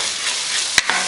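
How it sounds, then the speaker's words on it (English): Chicken, bell peppers and rice bubble and sizzle in a pan with a constant bright hiss, broken by a sharp clink and a softer scrape of a utensil stirring near the end. "It's still boiling down again."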